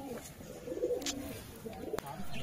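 Jiriya pigeons, a male placed with a female, give soft low cooing murmurs close by, with a few brief sharp clicks or wing flutters.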